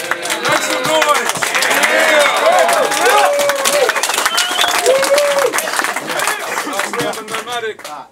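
At a rap battle event, a crowd cheers and applauds loudly and steadily while a voice shouts over the noise.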